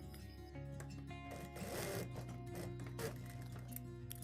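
Sewing machine stitching elastic into a farshi shalwar, a steady continuous motor whir with rapid needle rhythm running close and loud throughout, no voices.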